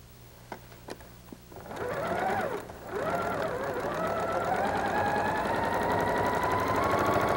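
A sewing machine stitches quilt pieces together, starting after a few soft clicks, then running as a steady, whirring mechanical hum that briefly pauses, resumes and gradually rises in speed.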